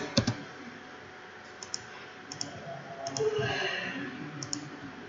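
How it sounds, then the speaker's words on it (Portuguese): A computer mouse gives a quick double click, followed by several more paired clicks spread across the stretch, soft and close over faint room hiss. "Ó, vou dar 2 cliques aqui."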